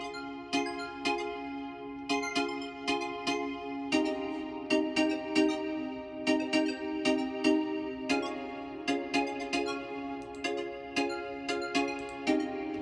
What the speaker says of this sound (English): these really nice bells from FL Studios, Harmless, and it sounds like this